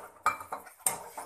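A spoon stirs gram flour and water batter in a bowl up close, with a few quick, quiet strokes and light clinks against the side.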